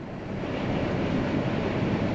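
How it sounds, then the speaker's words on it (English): Steady, broadband rushing of wind heard from inside a Pontiac GXP car cruising at about 60 miles per hour, a continuous moderate roar with no speech. "And you can hear the wind outside."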